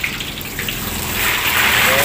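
Water gushes steadily into a cooking pot on the stove while potato croquettes are being made, a continuous close pouring rush that swells slightly toward the end.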